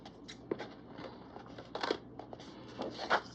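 Scissors snipping through paper while laying out a Happy Planner horizontal spread, a few quiet close crisp cuts with light paper rustle, no speech.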